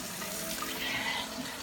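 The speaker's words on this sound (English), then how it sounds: "Water going in, not dripping down in the pan." Water runs steadily from a tap into a sink drain whose leaking gasket is being repaired; a continuous close, hissing splash with no talk.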